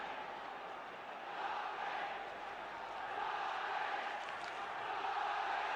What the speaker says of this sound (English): Listen to this Derby crowd as the players ask for the 10 yards from the defender